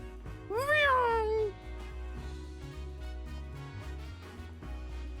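Purrloin, the cat Pokémon from the video game Detective Pikachu Returns, gives a single rising-and-falling meow over soft looping background music.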